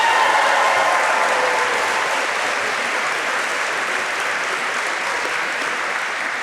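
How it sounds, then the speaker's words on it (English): Sustained, full applause from a school audience at an all-school meeting for students, a dense even roar of clapping that slowly tapers slightly over several seconds. "How about a round of applause for our students?"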